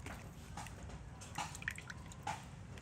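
Water drips and splashes softly as hydroponic seedling roots are dipped into a container and shaken, a few light irregular drops over a low steady background.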